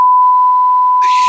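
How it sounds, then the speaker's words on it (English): A single steady censor beep tone sounds loudly and unbroken, cutting off abruptly near the end as a burst of noise follows. "Let me get the censor beep ready,"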